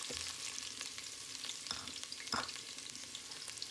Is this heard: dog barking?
no